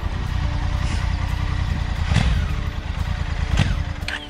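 A Honda Africa Twin CRF1100L motorcycle is ridden off road on muddy UK green lanes, its engine rumbling steadily with a couple of sharper rev surges and some clatter.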